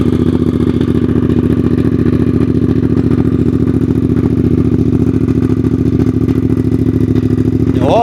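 Loud, close exhaust of a Suzuki GSX 8R sports motorcycle idling steadily, a deep even throb with a slight mechanical clatter, holding constant with no rev changes.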